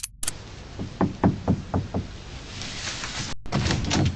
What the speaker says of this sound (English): he knocked on the door to use the bathroom